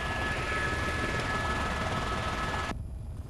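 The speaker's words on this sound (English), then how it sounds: "Chopper coming down." A helicopter flying overhead during a bushfire alert, a loud, steady, broadband rotor roar that drops away sharply near the end.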